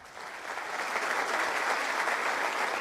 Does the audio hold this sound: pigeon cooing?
no